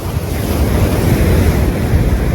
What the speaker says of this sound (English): These waves here are unbelievable.